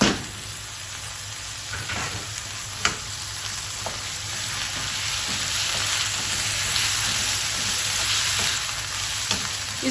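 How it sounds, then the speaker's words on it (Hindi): Half a kilo of minced meat (keema) fries in a pan with a loud, continuous crackling sizzle that holds steady throughout, broken by an occasional sharp scrape or tap and no voices. "इसकी थोड़ी भुनाई करेंगे कीमे की कि इसका कलर चेंज हो जाए"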